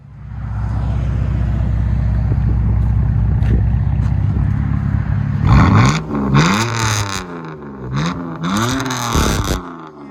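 A 2002 BMW 325i with a 2.5L inline-six and straight pipes idles with a loud low drone, then barks through several sharp, very loud revs that rise and fall in quick succession, close to the exhaust.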